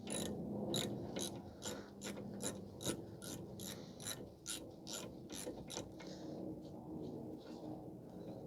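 Ratchet clicks in quick repeated bursts while removing the brake caliper from a 2016 Ford F-150 with the 3.5 engine, a close, fairly quiet rapid clicking that pauses briefly between strokes.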